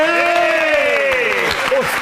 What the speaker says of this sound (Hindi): पहले तो बिना नाम सुने मेरे कहने पे ताली मारो